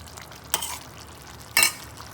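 Ground masala being stirred into cooked breadfruit in a pan, two short scraping bursts about a second apart over a quiet background with no talk.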